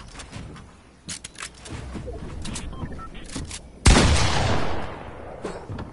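Gunfire in a video game comes as scattered shots and clicks, then one loud close burst that trails off into a noisy decay. Faint voices sit beneath it.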